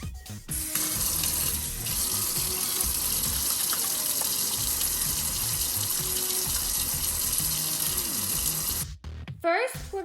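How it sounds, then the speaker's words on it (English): Tap water gushes steadily into a sink during handwashing at a kitchen counter, a loud, even rush lasting about nine seconds before it cuts off, followed by a couple of short clunks. "First, we're going to wash our hands."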